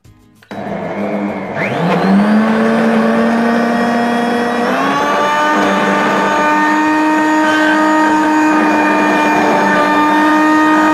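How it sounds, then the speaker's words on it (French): A blender starts up on fruit and frozen coconut, its motor whining up in pitch as it catches, then running loud and steady at close range. "vous les mettez dans le blender"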